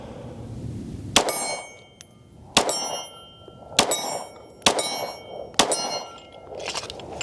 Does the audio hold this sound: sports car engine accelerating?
no